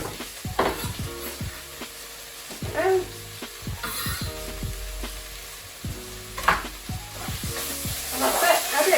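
Gyoza dumpling filling sizzles and fries in a pan on the heat, a steady crackling bed broken by repeated stirring scrapes and knocks of the utensil against the pan.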